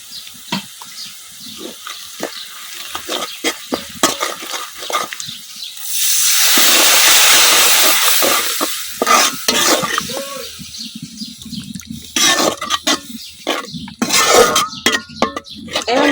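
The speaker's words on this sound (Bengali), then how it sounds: "এখন মশলাটা কিছুক্ষণ কষায় নেন" Spice masala for beef curry sizzling and frying in a pan, with a steady broadband hiss that swells loudly in the middle, broken by scraping stirs and clinks of a spoon against the pot.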